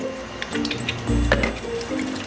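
A Perrysmith dust mite vacuum cleaner filter is washed with water, giving soft squishing, splashing and dripping sounds up close, with a brief louder slosh in the middle.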